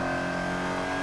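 A race-ready Acura NSX GT3 race car engine roars loudly and steadily at high revs, a dense harmonic drone heard up close from inside the car.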